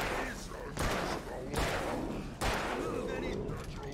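Gunfire in the video game Alan Wake: several sharp, loud shots at roughly regular intervals over a dense game soundscape, with a voice talking throughout.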